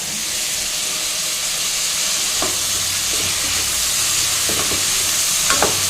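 Steady loud sizzling and hissing of chopped tomatoes frying in a pan for sambar, with a few light clinks from stirring.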